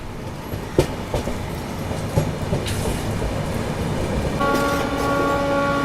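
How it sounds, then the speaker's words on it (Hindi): The Ayodhya–Anand Vihar Vande Bharat Express passes alongside a moving Rajdhani train, making a loud continuous rumble with rhythmic wheel clatter and a thin high squeal building near the end. "अभी बगल से ये क्रॉस हुई अयोध्या आनंद विहार वंदे भारत एक्सप्रेस।"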